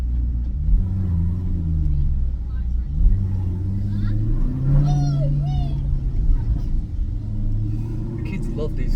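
A Maserati GranTurismo S engine idles and rumbles in a low, steady drone that rises and falls slightly, with a faint higher squeal partway through.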